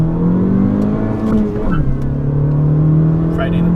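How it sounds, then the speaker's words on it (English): Car engine revving on a road with vans passing nearby, a loud steady drone that dips and climbs in pitch, heard alongside people talking. "get a little revving action there"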